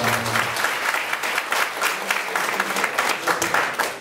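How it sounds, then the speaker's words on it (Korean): Full crowd applause at a political party's founding convention in Pohang, South Korea, dense and sustained, with a few voices calling out near the start before the clapping settles into a steady roar. "우리 박수로 서로 축하하고 축하드립니다"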